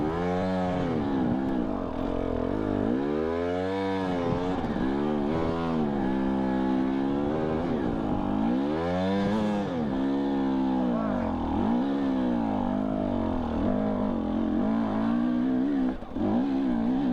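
KTM 250 EXC-F dirt bike climbing a steep trail in first gear, engine revving loud and close throughout with rising and falling pitch as the throttle works, continuous without a break.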